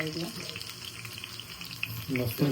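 Pieces of jitada fish fry in a little oil with a close, crackling sizzle, and a few brief clattering knocks come near the end.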